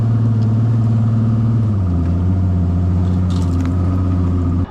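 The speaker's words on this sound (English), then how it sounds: "In this case, we can just, you know, motor right on through." A SeaArk Predator jet boat motoring along a river near the end of the Delaware Canal, its engine a steady low droning hum that drops slightly in pitch partway, then cuts off abruptly at the end.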